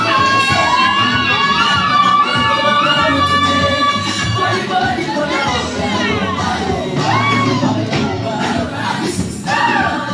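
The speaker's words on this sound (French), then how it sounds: "Acclamez très fort." A large crowd at a wedding consecration cheers, whoops and shouts loudly and continuously, with high excited voices, including children, rising over one another close by.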